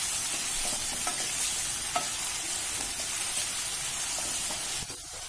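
Onion frying in hot oil with crackled cumin in a pan for paneer bhurji, a continuous loud bright sizzle with scattered pops and stirring scrapes, easing slightly near the end.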